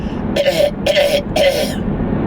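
A person makes three raspy, hacking cough-like bursts in a row, a voice imitating a dog coughing, with a hoarse tonal edge on each.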